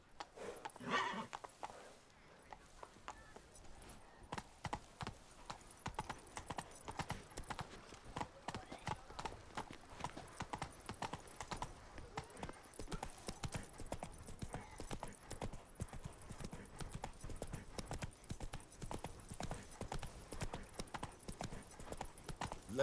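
Roach, the horse in The Witcher 3, galloping after a brief whinny, with fast rhythmic hoofbeats pounding steadily and close throughout, fairly loud and continuous.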